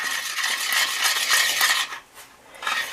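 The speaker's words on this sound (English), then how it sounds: "And then just stir it." A spoon stirs apple cinnamon oatmeal in a pot or bowl, giving a steady run of soft scraping and clinking that is fairly close and continuous, then dips briefly before resuming.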